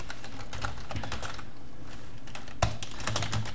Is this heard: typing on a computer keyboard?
yes